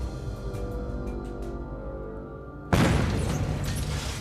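A stage explosion in a magician's trick lands as a sudden loud boom partway through, after a quieter stretch of rumble and light clicks, with the blast's roar sustained to the end.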